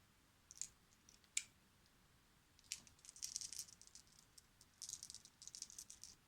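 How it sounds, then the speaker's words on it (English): Six dice rolled during a tabletop wargame playthrough of Fire in the Sky, Solomons campaign, giving quiet scattered clicks and rattles, a couple of sharp knocks, then a longer clattering run as they tumble and settle. "So the Japanese roll their 6 dice."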